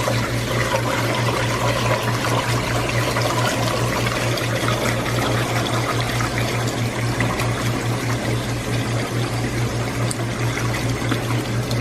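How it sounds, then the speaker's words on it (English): Sushi rice swirled in a generous amount of water for rinsing, giving a steady, loud churning wash of water that runs continuously with a low mechanical hum beneath it. "I have a lot of water inside here so that all the rice have a room to flow"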